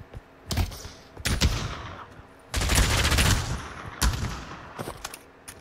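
Gunfire in the VR shooter Pavlov VR, sharp bursts of shots and rapid automatic volleys in separate clusters, loud and close, with no talk.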